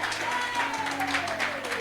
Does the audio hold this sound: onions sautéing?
no